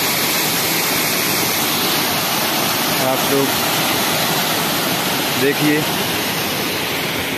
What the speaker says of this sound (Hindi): ये पांडव फॉल का सुंदर दृश्य और अति मनोहर झरना आप लोगों को दिखा रहे हैं